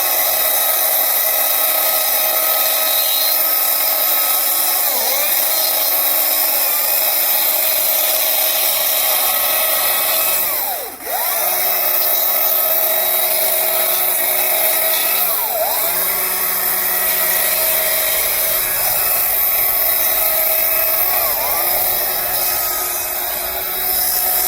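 Chainsaw carving scrap wood, its engine holding a steady high whine with periodic dips and revs as the cut load changes, loud and close, with no talking.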